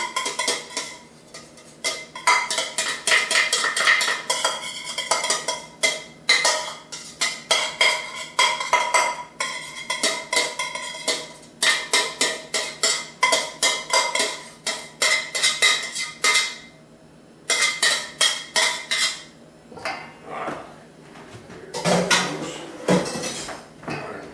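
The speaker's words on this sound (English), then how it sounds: "we're going to put all these onions and garlic in here" Onions and garlic go into a pan and are spread around, producing steady close clattering and scraping of a utensil against cookware in dense rhythmic bursts, with no talking.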